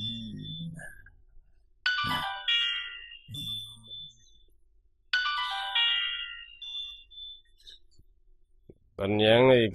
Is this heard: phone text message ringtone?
yes